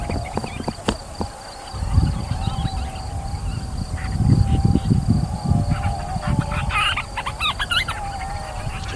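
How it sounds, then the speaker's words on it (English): Soft purring and chattering calls of grand storm petrels repeat at night over a steady insect-like drone, with faint whistled notes scattered throughout. "So these are grand storm petrels you hear."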